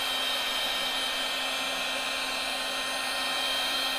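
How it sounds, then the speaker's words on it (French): A heat gun on its lowest speed blows hot air to dry dye on leather, a steady loud whooshing hum that holds unchanged from start to finish. "Alors décapeur thermique vitesse 1 bien évidemment."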